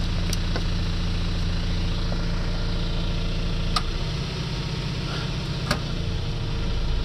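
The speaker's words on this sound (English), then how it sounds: "you hear the generator start taking a load" A RevCon RV generator runs at a steady idle-like drone, its low engine hum shifting slightly in pitch as it takes on a load, with a couple of faint clicks over the continuous mechanical noise.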